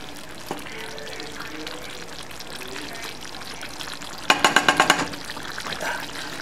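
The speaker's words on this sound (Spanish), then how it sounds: "Ya nomás que le cabe el agua." Water is poured into a pot of cooking rice for albóndigas, a short burst of splashing and sizzling near the end over a quiet kitchen background.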